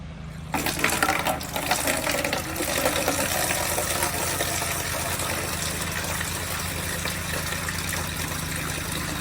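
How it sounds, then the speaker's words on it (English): Water rushes out of an opened bleeder screw on an outdoor spigot while it is being winterized. A sudden, close gush settles into a steady hiss and splash that runs on without a break. "we're gonna open up this bleeder valve, which is simply just a screw. We're gonna screw this off and you're gonna see water coming on"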